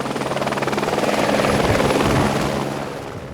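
A helicopter used to capture bighorn sheep on the outskirts of town chops steadily overhead, its rotor thump loud and even, swelling slightly before easing off.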